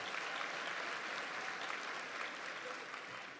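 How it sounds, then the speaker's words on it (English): Audience applause at a high school commencement, a dense, steady wash of clapping from a large crowd that holds at full strength and begins to ease slightly toward the end. "Give them a big round of applause."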